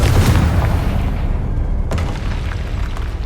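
The Confringo explosion spell from Hogwarts Legacy detonates as a deep, loud boom. A second sharp burst follows partway through, and the rumble fades out afterward.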